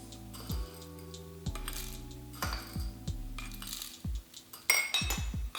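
Coffee beans are scooped into a hand coffee grinder, two and a half scoops, making a run of light clinks and rattles, then several brief crisp pours of beans, close and fairly quiet.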